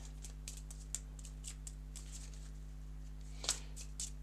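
Playing cards being shuffled by hand during a tabletop board game play test, a series of soft, quick riffling flicks over a steady electrical hum, fairly faint and close with no talk.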